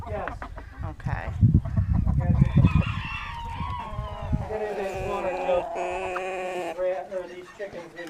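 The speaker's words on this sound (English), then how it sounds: "These chickens in here." Chickens in a coop during a winter blizzard, cackling and crowing close by in a busy overlapping flock, with people talking over the birds at the start.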